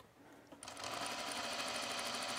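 A sewing machine stitches a parallel tuck line on a top, starting from near quiet and settling into a steady, fast, even mechanical whirr that continues without talk.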